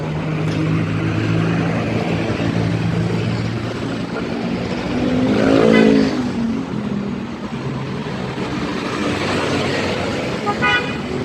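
A continuous, loud traffic roar comes from a busy city road in Iloilo on a school-day morning. Engines pass close by, and a car horn toots briefly near the end. No voices are heard.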